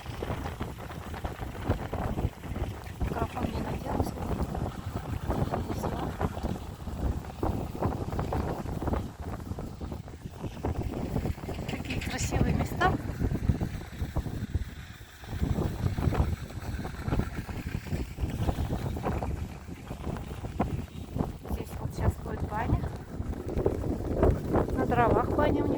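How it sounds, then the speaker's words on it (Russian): Strong wind buffets the microphone continuously on a riverside embankment, a steady loud roar of gusts with broadband rumble throughout, rising and easing slightly without pause. "Местами ветер сильнее,"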